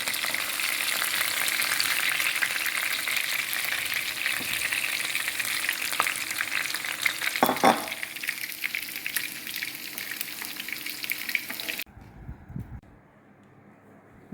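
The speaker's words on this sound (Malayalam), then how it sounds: "തിരിച്ചിട്ട് ഒന്നുകൂടി ഫ്രൈ ചെയ്യാം." Chicken pieces fry in hot oil with a loud, dense crackling sizzle and an occasional stir or turn, then it cuts off abruptly near the end, leaving a faint low knock.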